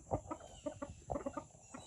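An American Breese rooster clucks in a quick run of short, close, rhythmic clucks, several in quick succession with brief gaps.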